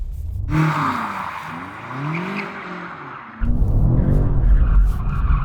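A BMW M5 Competition in rear-wheel-drive mode drifts with loud tyre squeal and skidding over a revving engine, then a harsher burst of scrubbing tyre noise as the slide continues.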